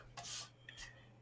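A scoring tool scratches briefly across card stock for a Halloween treat box, two short faint rasping strokes.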